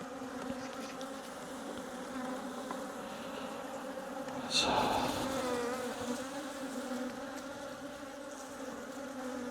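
Korean native honeybees hum from an opened hive in January, a close, steady drone with a brief louder swell midway as bees lift off the combs.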